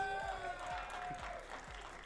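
Live esports crowd at a VR game tournament main stage, cheering and clapping for a team in a large hall, a moderate wash of applause under booming amplified sound.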